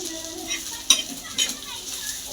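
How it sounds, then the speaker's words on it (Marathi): Fish curry ingredients, onion with green chili, ginger and garlic, roasting together in a pan, a steady close sizzle with a few spoon scrapes and clinks against the metal, no voices. "मी संगतीच भाजून घेते सगळं"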